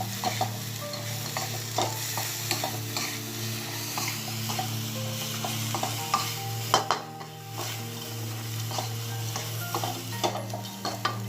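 Fish stir-fried in sweet dark soy sauce, steady close sizzling with frequent utensil scrapes and clinks against the pan, and a low hum underneath.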